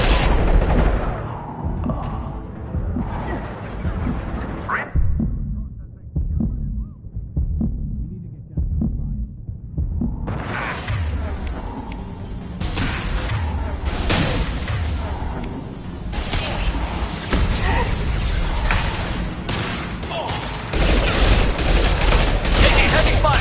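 Heavy gunfire from the video game Mass Effect 2 on insanity difficulty, dense bursts of shots rolling together loudly and continuously, building in intensity toward the end with rumbling impacts underneath.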